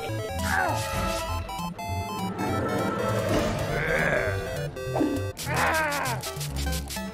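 A game animal's bleating grunts from Lego Pirates, several loud squealing calls rising over busy game music and effects, with a final cluster near the end.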